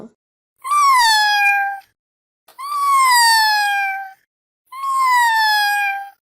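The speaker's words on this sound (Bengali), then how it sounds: "মিউ মিউ করছিস কেন?" A cat meows three times, long drawn-out cries close by and fairly loud, separated by short silences.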